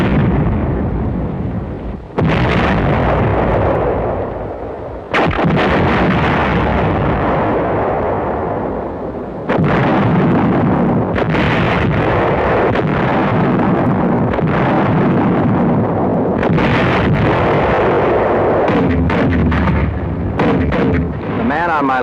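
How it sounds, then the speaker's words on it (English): Heavy WW2 tank and 88 gun artillery fire booms in rapid succession, loud and close, a dense barrage of blasts and rumbling detonations with only brief gaps between them. "the tanks opened up directly again with 88 fire."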